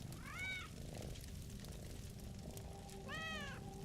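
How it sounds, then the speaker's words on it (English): Two cats meow inside a house in The Elder Scrolls Online, one drawn-out call near the start and another, louder one near the end, over a soft ambient game background with no speech. "Just a house full of cats."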